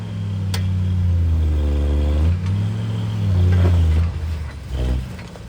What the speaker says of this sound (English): this is a rock bouncer.